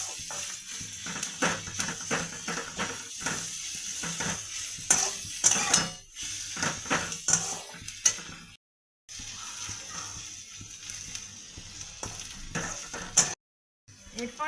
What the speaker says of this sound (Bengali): রসুনগুলো পেঁয়াজের সঙ্গে ভাজা হয়ে যাবে।